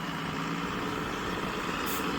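A tempo truck arriving with boiler machinery for a fish meal plant gives a steady, loud engine rumble with broad road noise throughout, and no talking.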